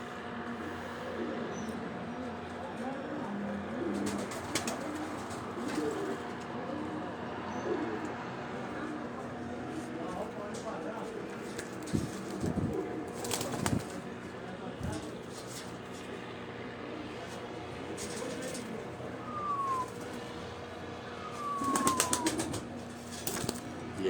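Pigeons coo softly in a loft, low repeated calls with occasional wing flaps nearby, heard beneath someone talking throughout.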